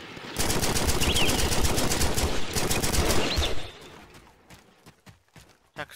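Rapid automatic gunfire from an enemy in a video game, a loud dense burst lasting a few seconds, then fading to scattered faint shots and a final single crack.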